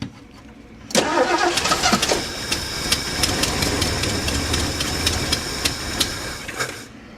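A 1976 Mercury Marquis engine cranks and catches with a sudden loud burst, then settles into a rough, uneven idle with the choke set, steady rumble punctuated by regular ticking knocks, close by until it cuts off near the end.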